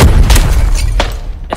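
A grenade explodes during an Arena Breakout game replay, a loud, close, booming blast with a heavy low rumble that fades, followed by a couple of sharp cracks.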